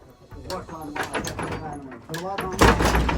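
Someone bangs and rattles a door hard as if trying to break it down, repeated loud thuds under overlapping shouting voices, building to a heavy slam at the end.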